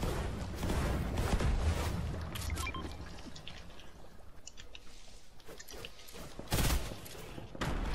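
Gunfire bursts in the video game Fortnite come as scattered loud shots and rattling volleys over a rushing background, with a strong burst near the end.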